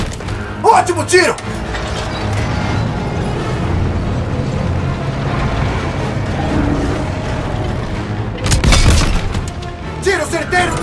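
Heavy booming tank cannon shots from Call of Duty: WWII, a few loud blasts with rumbling battle noise between them and some shouting.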